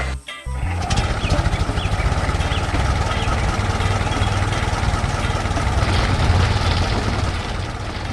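A purple tractor in an animated farm scene works a field near a wooden fence and barn, its engine chugging steadily and loudly in a fast, continuous rhythm.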